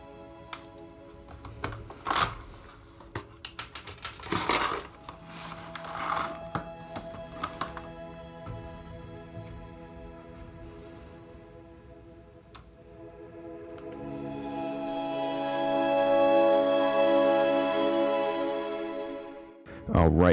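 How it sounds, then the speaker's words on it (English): Seattle's Best Portside Blend whole coffee beans are poured and handled with scattered clicks and rattles, then a burr grinder starts and runs with a steady whirring grind for about five seconds before stopping. "we're going to throw these beans into the burr grinder, and we're going to see how they break down"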